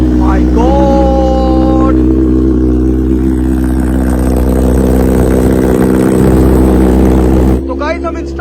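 A Kawasaki ZX10R motorcycle engine idles loudly and steadily after a cold start, a constant close rumble with a voice speaking briefly over it near the start and end.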